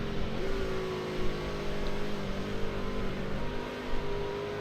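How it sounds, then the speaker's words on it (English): Engine of a racing truck in the iRacing video game ISRA Truck Series at Gateway, a loud sustained whine whose pitch climbs and dips through downshifts, heard on board with no talking. "Listen how late he leaves the downshift."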